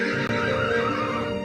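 A horse gives a long, loud, close whinny that rings out alone and fills the whole moment.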